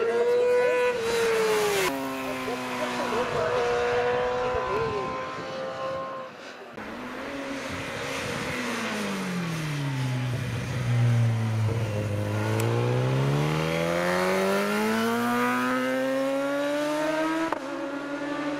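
Superbike racing motorcycles roar at the Julbach hill climb, engines loud and close with rising and falling revs as machines pull away from the start, one after another, the pitch sweeping through gear changes.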